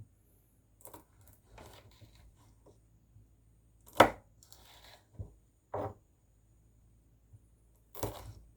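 A knife slits Gandhari chillies in half on a cutting board in a few sharp, separate cuts and taps, close but quiet, with soft handling noises between them in an otherwise silent room.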